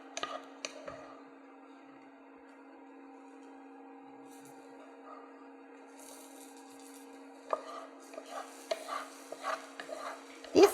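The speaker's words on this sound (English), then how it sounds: "We can add it to this batter we made, and then we mix it." Cooled room-temperature rice being mixed into a tachin batter gives a sparse tap at the start, then a long quiet stretch under a steady hum, before wet stirring and scraping against the bowl builds up close by toward the end.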